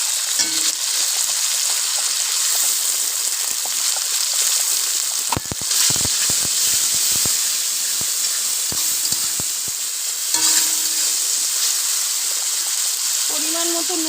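Ginger, garlic and green chilli paste sizzling in hot oil with browned onions, a loud steady frying hiss with bursts of spattering and some stirring clatter midway.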